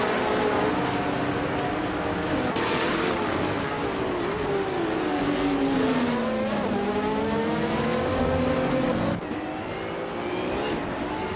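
Several race cars in a racing video game roar along together, engines droning and shifting pitch through gear changes, loud and continuous with no talking.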